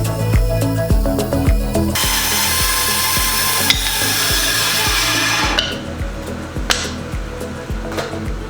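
A power tool cuts small wood blocks to be glued into a fishing lure body, giving loud, steady whining bursts with repeated rhythmic cuts, close up and with no talking.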